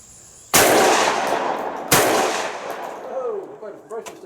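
A Beretta A300 Outlander shotgun fires two loud, sharp blasts about a second and a half apart, each ringing off in a long decaying echo. The shots stand alone with no talk.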